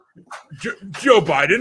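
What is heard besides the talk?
dog at feeding time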